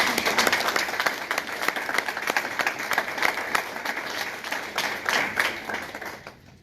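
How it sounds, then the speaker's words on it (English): An audience at a political candidate forum applauds, a steady crowd of clapping hands that holds for several seconds and then thins out and fades near the end. "let's give them all a round of applause for what they did"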